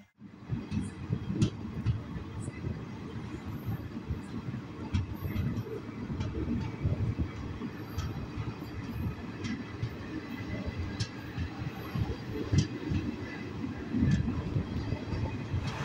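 A Chemmozhi Express passenger train on the Mannargudi–Coimbatore route runs steadily, with a low, continuous rumble and scattered light clicks and rattles, fairly quiet and free of talk.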